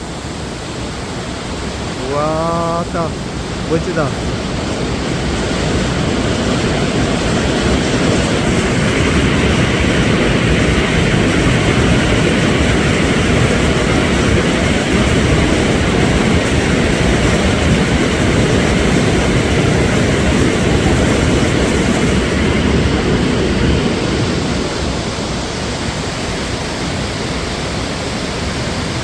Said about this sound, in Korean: 영축 폭포에 계곡물이 우렁차게 내리고 있습니다.